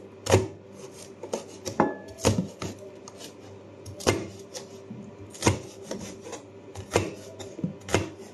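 A dull kitchen knife cuts a pepper for fried rice with a series of close, irregular chopping knocks and rubbing scrapes against the board.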